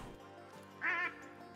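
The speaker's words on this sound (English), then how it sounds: "About 15 mallards circling us right now." A flock of about fifteen mallard ducks circles overhead in the New England mountains; one short, faint nasal quack stands out against quiet outdoor background.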